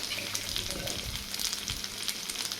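Drumstick and brinjal pieces frying with half-cooked onions for a brinjal, moringa and raw mango sour stew crackle and sizzle steadily in the pan, close by, with a few stirring scrapes.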